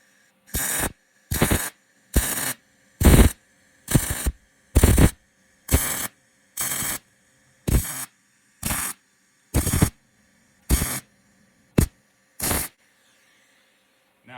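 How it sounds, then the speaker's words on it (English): An arc welder lays short spot welds on cast iron, about thirteen evenly spaced crackling bursts each lasting a fraction of a second, separated by brief silences, close and fairly loud. "Now, you'll see I'm doing spot welds"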